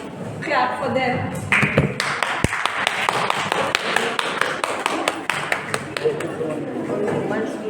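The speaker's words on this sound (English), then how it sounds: "Please clap for them." An indoor training-session audience claps for presenters. The clapping is sharp and scattered, with distinct hand claps rising over the chatter and murmuring voices of the room.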